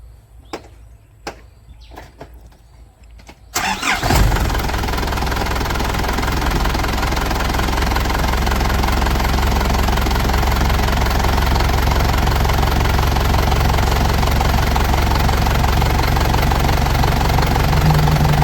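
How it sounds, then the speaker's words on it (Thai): An Isuzu Dragon 3.0 diesel engine cranks and catches after a few quiet clicks, then settles into a loud, steady idle with a constant low rumble and slight knock, continuing alone without talk. "เดี๋ยวผมติดเครื่องให้ฟังเสียงก่อนนะ"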